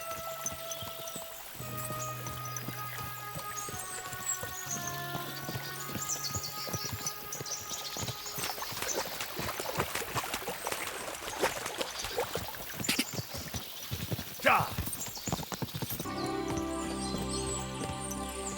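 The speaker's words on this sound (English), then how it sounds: "we'll give the horses a gallop again" Horse hooves in the video game Kingdom Come: Deliverance II clop steadily and rhythmically while crossing a stream, over a soft trickle of flowing water, with faint tonal music in the background.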